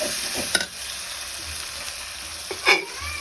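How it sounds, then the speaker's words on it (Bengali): Meat fat fries in a cooking pot, giving a steady soft sizzle broken by a couple of brief scraping stirs, close by and moderately loud, with no one speaking. "এখানে তো রান্না করা হচ্ছে মাংসের চর্বি এগুলো দিয়ে দিলাম"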